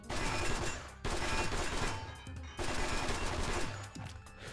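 Sustained bursts of automatic gunfire in the shooter The Stalin Subway 2: Red Veil, three long loud volleys with brief pauses between them, close and harsh with no talking.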